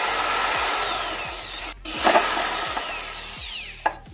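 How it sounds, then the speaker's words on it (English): Cordless power drill run in reverse to back a screw out of wood, a steady close whirring motor with brief pauses and a short louder burst near the end. "To remove the screw, use the reverse function."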